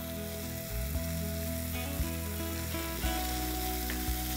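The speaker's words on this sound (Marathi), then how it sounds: "आता आपण यात मशरूम घालूया" Onion and mushrooms frying in a pan, a dense, steady, loud sizzle with a few soft knocks from a utensil, heard up close with no talking.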